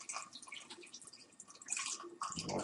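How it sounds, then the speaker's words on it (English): Homemade apfelwein being made as the last gallon of liquid is poured into a fermenting jug to wash down leftover yeast, a steady splashing, gurgling pour close by with no talking. "you pour it in there to wash down that extra yeast"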